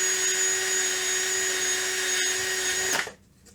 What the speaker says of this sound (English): Don't push anymore when you're drilling, but keep drilling just to smooth out the edges.